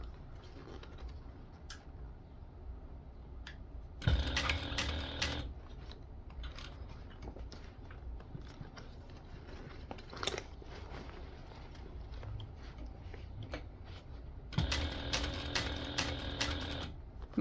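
A sewing machine stitches a small tote bag, running in two loud, steady bursts of rapid needle chatter a few seconds long, separated by a quieter stretch of handling noise and no speech.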